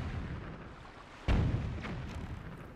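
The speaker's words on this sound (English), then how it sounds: "Did that cannon almost break down its own door?" A cannon in Zelda: Wind Waker fires with a single deep, loud boom that strikes and nearly breaks a door, then rumbles away over steady background noise.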